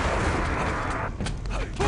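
Shotgun fire in a Quake Live team deathmatch match, loud and dense blasts blending into a harsh, continuous burst of noise, with a commentator's voice faintly underneath.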